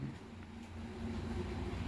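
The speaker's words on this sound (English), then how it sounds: "Now listen to the traffic." Road traffic at a noisy outdoor spot gives off a continuous low rumble and hiss of passing vehicles, steady and fairly loud with no talk over it.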